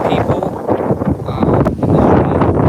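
Wind buffets a microphone outdoors with a steady rumbling roar that swells toward the end, filling the whole clip.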